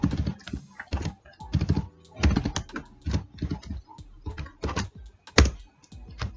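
Python code typed on a computer keyboard, a quick irregular run of close, crisp key clicks in short bursts with brief pauses between them.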